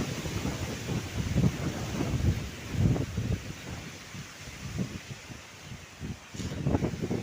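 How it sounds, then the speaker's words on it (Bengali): Strong gusty stormy wind roaring against the microphone on a Ganges riverbank, in heavy, rumbling surges that rise and fall, with no voices. "ঝোড়ো হাওয়া খুব জোর বয়ে বেড়াচ্ছে"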